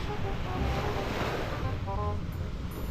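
Ocean current and surf wash in a continuous roar, with waves breaking and heavy wind buffeting the microphone.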